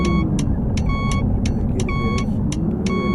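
Inside a bus simulator video game, a bus reverses with a steady, evenly spaced electronic reversing beep over a continuous low engine rumble, loud and close throughout.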